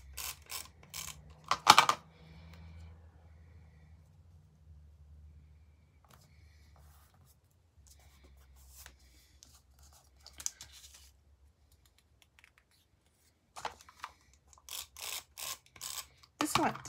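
Scissors cutting a thin paper strip for a scrapbook Christmas tree page, with a few quiet snips and paper rustles separated by near silence, followed by a quick run of small crisp clicks at the end.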